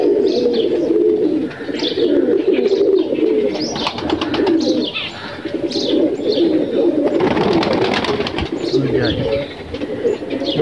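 Pigeons cooing inside a loft, several birds giving throaty, overlapping coos, close and loud, with chirps, a brief flutter of wings and some background noise.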